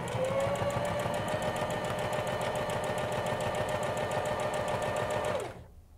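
A sewing machine stitches a fabric mask in one loud, steady run of rapid needle clatter and motor whine, stopping abruptly near the end.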